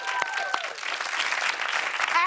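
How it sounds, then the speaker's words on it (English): An audience at an International Women's Day celebration breaks into warm applause, a broad wash of many clapping hands with a few louder claps near the start and crowd noise swelling underneath. "Round of applause."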